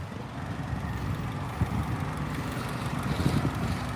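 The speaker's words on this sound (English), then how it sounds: "I had the phone sitting out on the curb so you guys could hear the exhaust" A 2019 Mini Clubman S fitted with a JCW tuning kit exhaust idles nearby, producing a low, steady burble with slight pulsing, and no one speaks over it.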